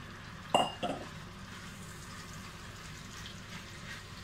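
About 1.4 kg of beef is stirred in hot browned butter in a pot under a running range hood, a soft steady sizzle with a couple of sharp scrapes and clinks from a utensil near the start.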